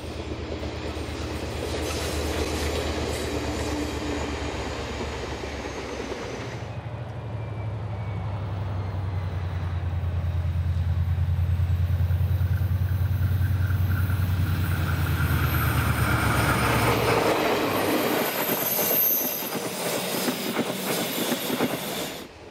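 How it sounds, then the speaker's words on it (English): A train running past stored passenger carriages at Taumaranui on New Zealand rails rumbles steadily for the whole stretch, with a low drone mid-way, rhythmic clickety-clack of wheels over joints, and rising squeal and clatter toward the end. "Passing the remaining passenger carriages stored at Taumaranui."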